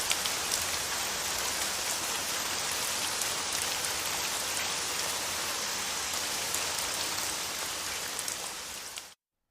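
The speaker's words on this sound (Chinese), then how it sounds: "下这么大雨，快走！" Heavy rain pours down in a dense, constant hiss of drops striking surfaces, loud and unbroken for nearly ten seconds before cutting off abruptly, with no voices.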